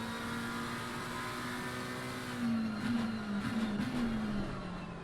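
A McLaren GT race car in Assetto Corsa Competizione holds a steady engine drone that climbs and wavers through the final chicane, moderately loud and close.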